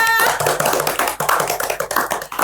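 A group of children claps hands together in quick, loud, close bursts, the claps running into each other with little pause.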